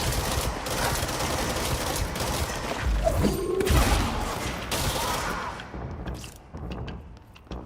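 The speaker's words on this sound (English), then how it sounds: "Machine gun time." Sustained rapid machine gun fire in the video game Control, loud and dense for several seconds, then thinning into a few scattered shots and clicks near the end.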